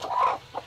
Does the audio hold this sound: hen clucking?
yes